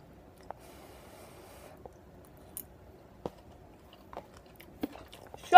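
Someone chews a crunchy broccoli and cheese dish topped with breadcrumbs, quiet close bites and crunches spaced irregularly over a near-silent background, with no talking.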